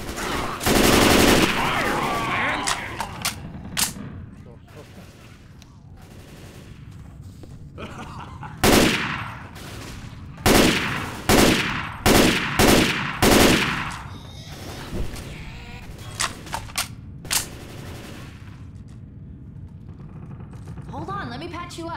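Gunfire in the zombie shooter Left 4 Dead 2: an early loud burst, then a long run of sharp, evenly spaced single shots at close range, mixed with in-game character voices and ambient noise.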